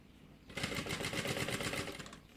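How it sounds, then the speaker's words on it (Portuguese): A sewing machine runs in a steady rapid stitching burst while sewing a fabric bag, starting after a brief quiet moment and holding even, close and clear to the end. "Costura até aqui, ó, uns 4 dedos antes do final."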